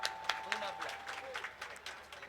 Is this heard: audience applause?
yes